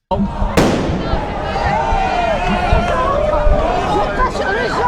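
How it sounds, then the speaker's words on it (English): A single sharp firework bang cracks out at a street protest in Paris, followed by a crowd murmuring and talking loudly around it. "Antifa's lighting off fireworks."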